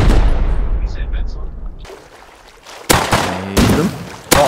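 In the video game Rust, a loud burst of gunfire opens, then after a quieter gap several sharp shots crack out close by in separate bursts, each cut off abruptly.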